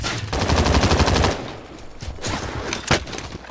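Rapid automatic gunfire from a video game battle royale match, loud bursts of fire for over a second followed by scattered single shots and impacts, close and dominant with no talk over it.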